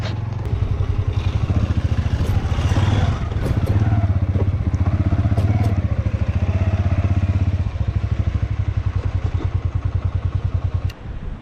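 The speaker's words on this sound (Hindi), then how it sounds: "बाइक यहाँ पे मैंने पार्क कर दी है" A motorcycle engine thuds steadily and loud close by as it is ridden and parked near a historic fort outside Rawalpindi, with faint clatter over the running engine and no speech.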